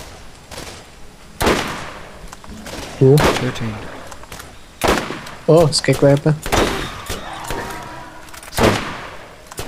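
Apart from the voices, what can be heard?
shotgun fire in a video game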